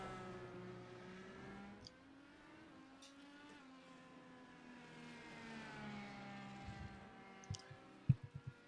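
An IndyCar race car warming its tires in a racing game at the Indy Grand Prix of Wisconsin: a faint, steady engine drone rising and falling in pitch, with a few clicks and sharper bumps near the end.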